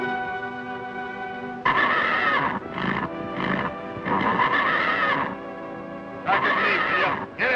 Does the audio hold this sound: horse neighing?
yes